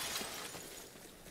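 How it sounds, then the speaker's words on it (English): Glass shatters in the tactical shooter Arena Breakout during a close firefight, a loud, sharp crash near the listener followed by a brief scatter of debris and noisy game ambience. "Why did I just hear glass break?"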